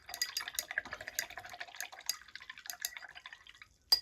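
Something is rinsed under running water from a tap at close range, a light splashing and trickling that patters on steadily and then stops with a brief clink.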